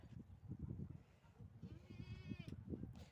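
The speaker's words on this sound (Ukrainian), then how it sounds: "Коза м'якає." A goat bleats once, a wavering cry rising over nearby rustling and soft murmured talk in a quiet outdoor setting.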